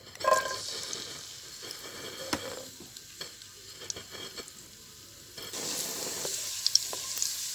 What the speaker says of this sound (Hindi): गरम ऑयल में डालेंगे लहसुन,